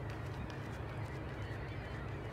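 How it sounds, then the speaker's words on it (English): Faint Canada-area geese honk a few times at a distance on the Ottawa River over a low steady background hum. "Can you hear the birds?"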